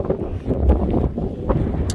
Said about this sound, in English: Cold wind, the wind is chilly to the bones.